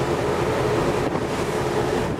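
Ferry crossing from Rødbyhavn to Puttgarden, with a steady, loud wash of wind, water and ship rumble running throughout without any talk.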